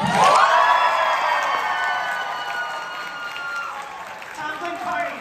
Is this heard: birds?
no